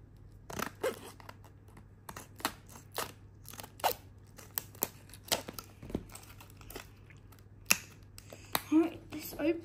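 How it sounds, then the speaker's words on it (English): Scissors snip through plastic padlock blister packaging in short, sharp cuts with crinkling plastic, scattered clicks across a quiet room, close to the microphone and irregular in rhythm. "I'll just cut it at the bottom."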